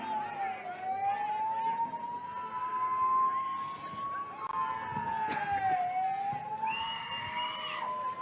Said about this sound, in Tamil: ஆம்புலன்ஸ் வருது, வழி விடுங்கப்பா.